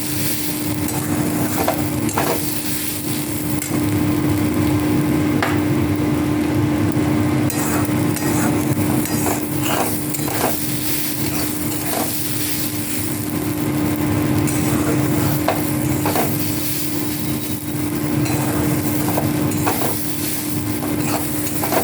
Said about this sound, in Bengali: চালগুলো যত বেশি ভালো ভাজা হবে, পোলাওটা তত বেশি ঝরঝরে হবে